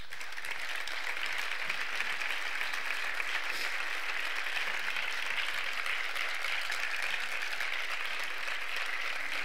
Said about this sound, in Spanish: Pido un fuerte aplauso para Jeromo Segura.